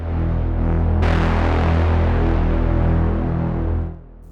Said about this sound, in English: This section starts with a low B using a tweaked preset from Massive X. It's called Abrasive, and some reverb and distortion.